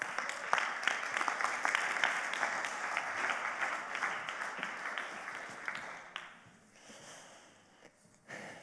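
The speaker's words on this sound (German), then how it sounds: "Aber ihr könnt ihn jetzt begrüßen mit einem herzlichen Applaus." An audience at a prayer and worship gathering gives a warm round of applause that stays steady and full for about six seconds, then thins to scattered claps near the end.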